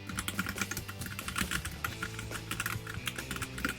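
Typing on an ASUS ROG Strix Scope II 96 wireless gaming keyboard with non-blue switches: a steady stream of quick, close keystroke clacks, alone without talk.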